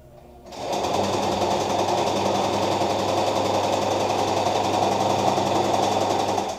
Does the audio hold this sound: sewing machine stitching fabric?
yes